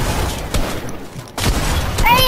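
Shotgun blasts in a video game come as loud, dense bursts, with a few sharp booms over about two seconds. Game noise fills the gaps.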